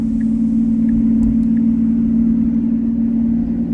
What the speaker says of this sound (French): Mec le son qu'elle fait la Revuelto là.